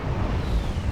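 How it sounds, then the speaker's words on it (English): A plasma shockwave blast in the space game Star Trek Online, a dense, roaring rumble that stays loud and heavy for the whole brief moment, with no voice over it. "There's the plasma shockwave."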